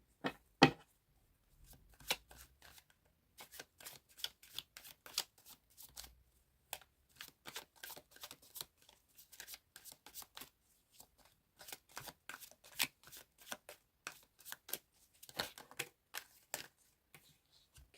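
Tarot cards shuffled by hand, a close, quiet run of crisp riffling and flicking bursts in irregular clusters over about eighteen seconds, with no talk over it.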